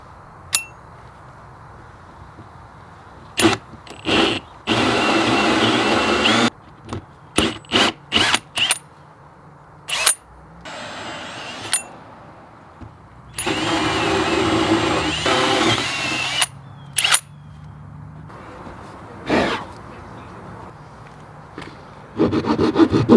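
A power drill bores two 1.5-inch holes through a wall for a stainless Aquor house hydrant install, with long grinding cutting runs broken by pauses, short bursts and clanks, loud and close.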